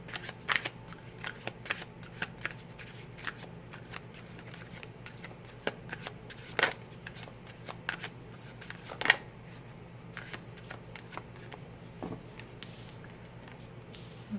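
Tarot cards from an Empress deck are shuffled and drawn in a long run of quick, soft riffling flicks and slaps with a few sharper snaps, all close and fairly quiet.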